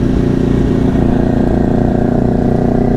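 A BMW S1000RR sport motorcycle being ridden produces a loud, steady, throbbing engine drone at constant revs, heard close and alone for three seconds.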